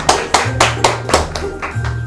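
A group of children applauding a child who has just read a word from a card, giving about seven sharp, evenly spaced claps in unison with a low hum running underneath.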